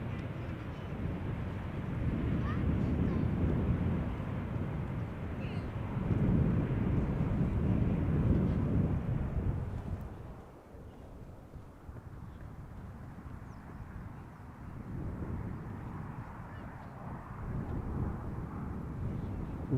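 A KLM airliner taxis at Schiphol Airport after landing, its engines a steady broadband rumble mixed with wind noise. The roar dips sharply partway through, then returns at a lower, steadier level.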